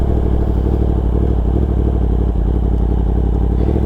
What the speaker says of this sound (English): So, for example, this is front brake and rear brake.